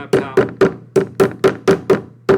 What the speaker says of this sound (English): We'll grab our hammer, we'll tap to